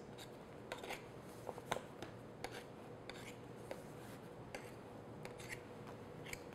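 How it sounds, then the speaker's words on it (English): A knife trimming excess pastry dough from the rim of a butternut squash pie, heard as quiet, close scraping and cutting strokes in an irregular series over low room hum, with no talk. "I'm just going to take a knife and cut off my excess."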